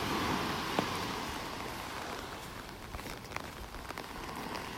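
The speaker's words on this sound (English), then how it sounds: "I don't know if you can hear the rain hitting the umbrella." Steady patter of rain drumming on an umbrella overhead on a beach in North Naples, Florida, a dense continuous hiss with occasional louder drips, outdoors with no talking.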